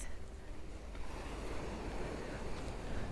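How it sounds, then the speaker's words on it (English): Sea waves wash in along the Fleetwood seafront as a constant faint rush of surf, mixed with light wind noise, and nobody speaks. "Listen to that sea."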